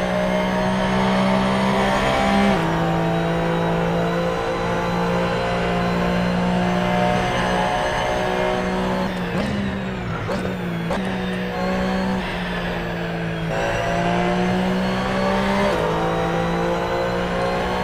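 GT3 race car engine in Assetto Corsa, droning loud and steady with shifting revs, brief gear changes and a few lifts and dips in pitch as the car works through corners, continuous throughout.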